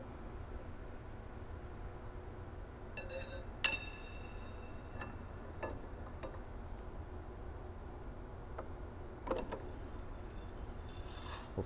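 A brass nut spun off a Park Industries stone saw's blade spindle, with sparse light metallic clinks and ticks over a steady low machine hum.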